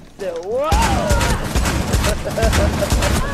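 Rapid gunfire in the video game Rainbow Six Siege, a dense close burst of shots continuing after a short sliding tone, with excited voices shouting over it.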